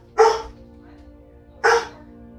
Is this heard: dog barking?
yes